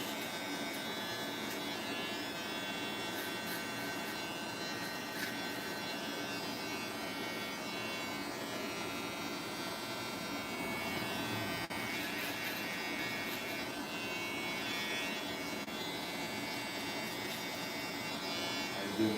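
An electric shaver trimming a beard runs as a steady, continuous buzz throughout, fairly faint and close, with no distinct breaks.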